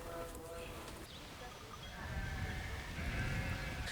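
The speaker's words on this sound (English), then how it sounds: "It's like a sheep." Sheep bleat at a distance amid a noisy outdoor background, the calls faint and partly buried under ambient rumble.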